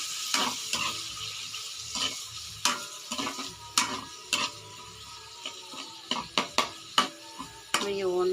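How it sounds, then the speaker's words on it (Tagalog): Marinated beef tendon sizzling in a hot pan for adobo, a steady frying hiss broken by repeated scraping clicks of a utensil stirring, close and fairly loud. "ilagay ko na ang aking marinate na litid ng baka."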